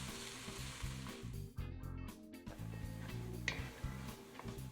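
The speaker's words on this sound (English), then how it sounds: "You're going to put in one small diced onion. That's what you want. You want that sizzle." A small diced onion sautéing in oil sizzles steadily up close, with occasional clicks and stirring sounds over a low background hum.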